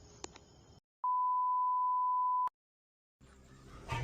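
A phone call gives a single steady electronic tone lasting about a second and a half. It sounds clean and alone, with brief silence before and after and faint background noise at both ends.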